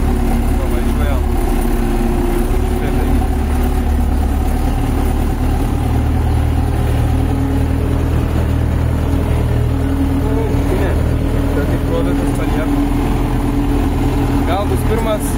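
A tractor engine runs at a steady idle for the whole stretch, a loud, even low rumble with a constant hum on top and no pauses.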